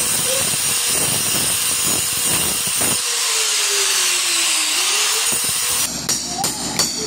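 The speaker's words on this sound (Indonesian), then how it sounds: "saya di sini yang pertama menggunakan gerinda dulu ya sampingnya" An angle grinder cuts into a wall with a loud, harsh whine and grinding roar, its pitch shifting as it bites and eases, followed by a few sharp clatters near the end.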